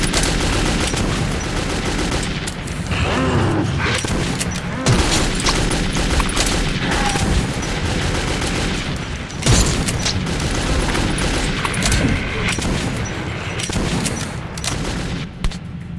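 Loud, sustained gunfire in the video game Metro 2033, with dense bursts of automatic shots and booming impacts rolling almost without pause, mixed with clanking mechanical noises.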